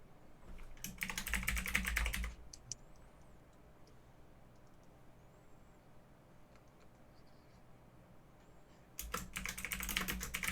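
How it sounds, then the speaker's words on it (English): Computer keyboard typing in two bursts of rapid clicking at the start and end, with a quiet pause between, close and alone without speech. "Pardon anyone watching right now or listening right now who is hearing my keyboard typing."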